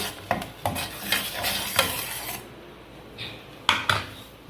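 Onions and tomatoes sauté in a pan for a Tamil masala vada snack while a spoon scrapes and stirs in irregular strokes over a soft background sizzle, heard up close without speech.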